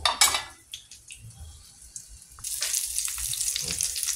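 Hotdogs fry in a pan, a soft sizzle with a few clinks and scrapes of utensils early on, then a louder, steady crackling hiss building in the second half.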